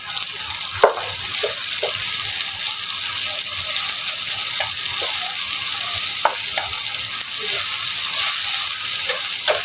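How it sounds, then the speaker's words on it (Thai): Crisp garlic and chili stir-frying together in hot oil for salt-and-chili shrimp, a loud continuous sizzle close by, punctuated by sharp spatula clacks against the pan. "เมื่อกระเทียมของเรากรอบแล้วนะคะ เราก็เติมพริกลงไปเลยค่ะ เราไม่ผัดกันผัดรวมกันเลยค่ะ"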